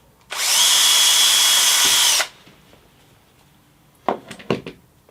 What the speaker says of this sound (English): And screw that one into place also.